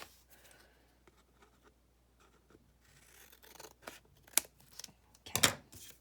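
Scissors trim excess paper from the edge of a glued, decorated page. Quiet rustling leads into a few sharp snips near the end, close and fairly faint.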